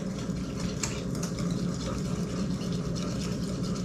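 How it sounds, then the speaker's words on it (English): Lemon cake mix and pudding batter being mixed, likely with an electric mixer, giving a steady close whirring drone with a gritty texture that runs throughout without pause. "we're going to mix this up and try not to make too big of a mess"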